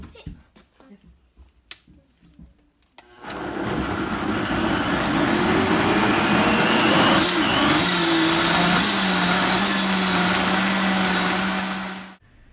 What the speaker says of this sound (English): While that is blending,